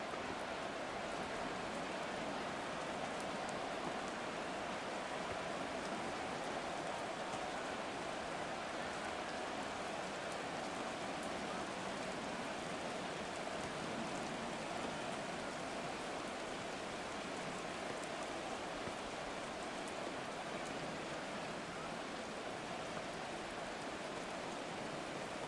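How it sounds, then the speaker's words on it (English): Steady rain falling over a stadium in the football video game Madden 24, a dense, even wash of hiss that stays unbroken throughout. "The rain set to continue as we are underway in the second half."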